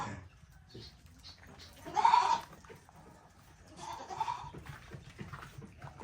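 Goats bleat twice, a loud nearby cry followed by a softer one, amid quiet rustling and faint farmyard noise.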